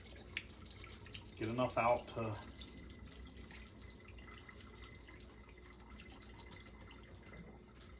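Cold tap water running into a pot of cooked spaghetti noodles, a soft steady trickle at low level, with a person speaking briefly partway through.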